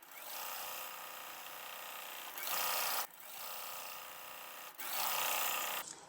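A sewing machine stitches quilt block pieces together, running in steady whirring bursts with two brief louder spurts of faster sewing, close and clear, with no talking.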